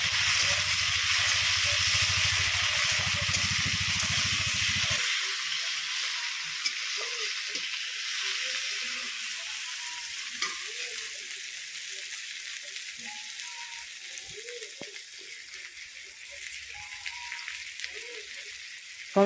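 Tomato with onion, ginger and garlic frying in a pan, a continuous bright sizzle with occasional soft stirring sounds, a low hum underneath for the first few seconds, no speech.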